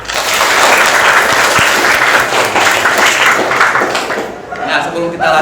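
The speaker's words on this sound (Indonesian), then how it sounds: "Tepuk tangan." Applause in a classroom, a group of pupils clapping loudly and steadily for several seconds, thinning out near the end, with a few voices mixed in.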